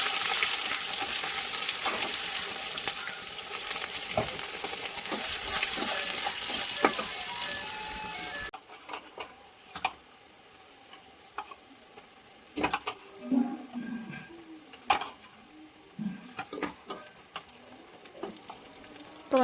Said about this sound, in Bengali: আমার এখানে পেঁয়াজটা ভাজা হয়ে গেছে